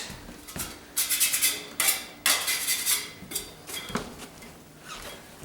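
Metal drywall knife handled during hot-mud patching, several sharp clinks and scrapes in uneven bursts, close and clear, with no talking.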